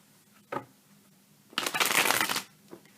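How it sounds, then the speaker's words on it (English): Tarot cards being shuffled in a quiet room: a short riffle, then a longer, louder burst of flicking cards, and a faint final tap. "And we'll go ahead and give a shuffle."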